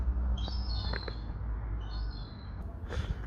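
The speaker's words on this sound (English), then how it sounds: "Bloody seagulls." Seagulls call a few times, short squawks at a moderate distance, over a steady low rumble of outdoor background noise during a car gearbox repair.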